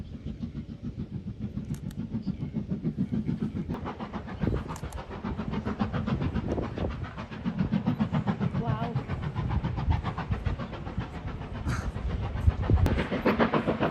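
A steam train dressed as the Hogwarts Express rolls past on a Highland line, a steady rhythmic rumble and clatter of wheels and carriages holding close and loud throughout.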